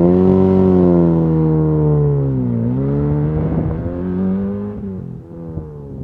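A classic Mini car pulls away close by, its engine note steady and then rising and falling through a gear change as it drives off, loud throughout with no talking.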